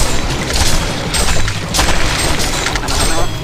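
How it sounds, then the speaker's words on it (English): In the Heroes of Newerth video game, a barracks is destroyed with a loud, dense rumbling explosion and crackling blasts. The roar is sustained for a few seconds, with voices from the game mixed in. "A Legion barracks has been destroyed!"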